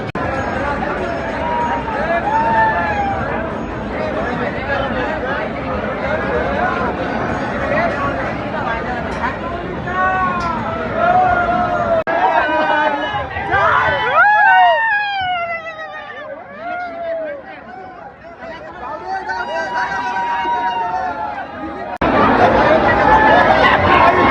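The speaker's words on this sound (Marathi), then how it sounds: "खतरनाक गर्दी आहे." A dense, jostling crowd at the Ekvira Aai palanquin procession near Lonavala, a constant roar of overlapping voices with shouts rising and falling, dipping briefly before surging loud again at the end.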